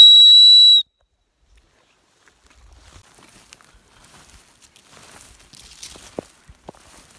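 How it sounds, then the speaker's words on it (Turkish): A loud, shrill whistle blast sounds once while hiking in nature to warn off bears, followed by soft footsteps and rustling on the trail. "Düdük her zaman işe yarıyor."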